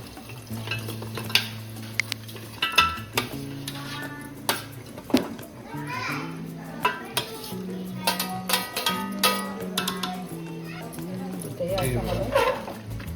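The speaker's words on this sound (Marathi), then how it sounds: "आता आपण बकऱ्याचे पीस टाकतो" Mutton pieces go into a pot of village-style gravy and are stirred, giving sizzling and scraping against the pot along with clinks of a spoon, while a person talks throughout and music plays in the background.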